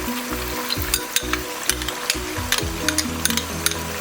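Chicken sizzles and fries in a hot pan for a Shahi chicken qorma as garlic-ginger paste goes in, a steady loud crackle with sharp clinks and stirring scrapes of a spoon against the pan.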